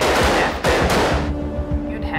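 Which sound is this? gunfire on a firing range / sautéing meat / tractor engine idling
gunfire on a firing range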